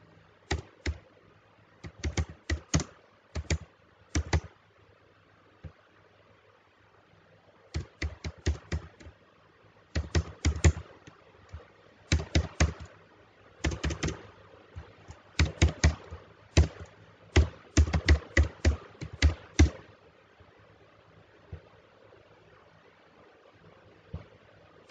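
Registration details typed on a computer keyboard, with bursts of rapid key clicks separated by short pauses, close and clear over a low steady hum, with no talking.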